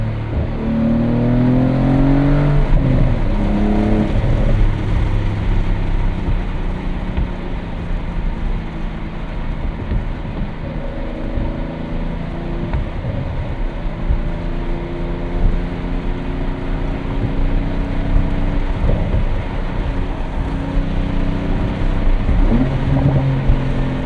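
A 2025 Porsche 911 Carrera T with a six-speed manual on a morning commute, its engine and exhaust droning and rising and falling through revs with burbling undertones, loud and continuous inside the car.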